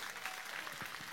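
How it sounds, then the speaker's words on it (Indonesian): At a religious gathering in Jember, a crowd gives a short burst of applause. It is faint and distant, with steady clapping and no clear voices. "tepuk tangan buat Mas Arif"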